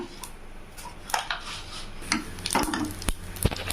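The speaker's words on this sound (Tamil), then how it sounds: "பாருங்க நல்லா பொரியுது" Crackling and popping of cumin, urad dal and chana dal frying in hot oil, with scattered sharp spits and a few metallic clinks of a utensil against the pan.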